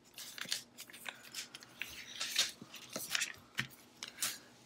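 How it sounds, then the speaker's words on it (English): Heat transfer vinyl being peeled off its carrier sheet during weeding for DIY tea towels, a series of close, crisp tearing and crackling pulls in irregular bursts, with no talking. "And just pull away excess that we don't need"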